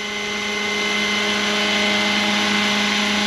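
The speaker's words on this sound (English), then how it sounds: "any gust of wind causes the helicopter to shake" A Roban 600 size Hughes MD500 scale RC helicopter flies in gusty wind, its steady loud rotor and engine whine holding a tonal drone that swells slightly as it goes.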